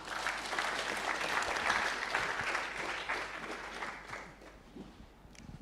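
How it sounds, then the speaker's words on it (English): A room full of fresh students at an academic year orientation applauding, steady dense clapping that gradually thins and fades toward the end. "won't you clap for her?"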